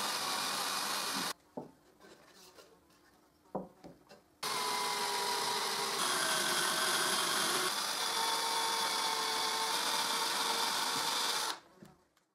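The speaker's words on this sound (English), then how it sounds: "I drill in the structure the guide holes to screw the strips that will hold the glasses" A power drill bores guide holes into the wooden structure of a display cabinet, with a short burst, a few brief touches, then a long steady whine close by.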